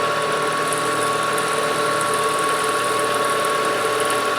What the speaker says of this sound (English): It's a carbide cutter and it should be just fine.